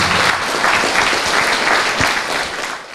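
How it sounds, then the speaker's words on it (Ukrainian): A hall full of people applauds at a celebration honouring culture workers of the Poltava community, dense continuous clapping that stays loud throughout with little talk. "Тут точно треба обмінятися оплесками."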